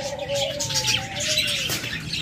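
Pet birds kept in cages coo and chirp close by, soft repeated tonal calls over a light background twitter, with no voices.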